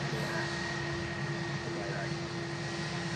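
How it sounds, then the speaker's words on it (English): A Turkish Airlines A321 airliner rolls along the ground at Manchester Airport, giving a steady, fairly distant broadband jet roar with a faint constant whine and little change across the whole stretch. "Turkish Airlines A321."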